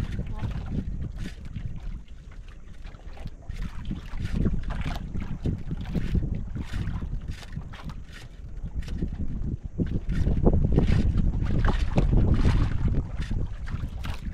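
Small boats out on open water, heard as a low, uneven engine and water rumble buffeted by gusty wind noise on the microphone, with people talking over it throughout.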